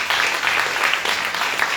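An audience applauds steadily and fairly loudly, a dense patter of many hands clapping with no pause.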